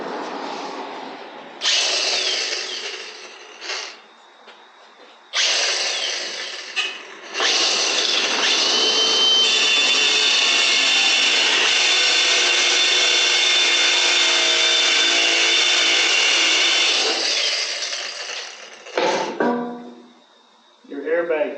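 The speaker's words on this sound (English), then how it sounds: "It looks like we're cutting a bolt head off." Power tool grinding a bolt head off a semi truck, a loud continuous whine with a few short starts and stops before one long sustained cut, then brief bursts at the end.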